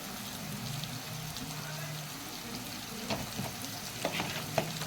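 Fish fries in a pan with cumin and turmeric for a fish curry with radish and potato, a steady sizzle under scattered stirring clicks and scrapes, close by.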